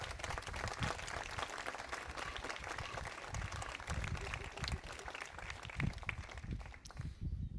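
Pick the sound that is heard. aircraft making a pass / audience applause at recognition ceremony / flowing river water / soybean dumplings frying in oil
audience applause at recognition ceremony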